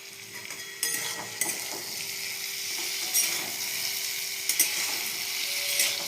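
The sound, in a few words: vegetables frying with turmeric in a pan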